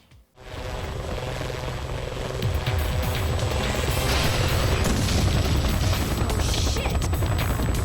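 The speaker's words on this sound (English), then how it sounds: "including blowing up civilian helicopters" A helicopter's steady, loud rotor roar and thrum fills the scene from the 2004 Xbox sci-fi brawler Breakdown, with dense rumbling and crackling layered on as civilian helicopters are blown up, continuous throughout.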